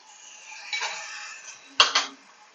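A spatula scrapes and clatters against a pan while fish masala with kokam is sautéed: two clear metallic scraping bursts, the second sharper, over a faint background, with no voices.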